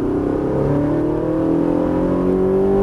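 A Ferrari 458 Italia's engine pulls hard on a racing circuit, its pitch climbing steadily through the rev range, loud and continuous from inside the car with no talking.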